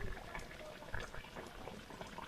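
Jamaican curry ram goat simmers in a pot on a coal stove, giving a faint, continuous bubbling and crackle with no voices.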